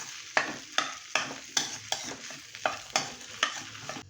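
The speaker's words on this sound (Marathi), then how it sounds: "छान असं व्यवस्थित ढवळून घ्यायचं आहे भाजीला" Boiled potatoes and green peas being stirred in a pan for a dry potato-pea bhaji, with about ten regular scraping strokes of a spoon over a soft sizzle, close and clear, no voices.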